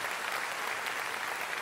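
A congregation applauds in a church service, a dense, even wash of clapping from a crowd that holds steady throughout.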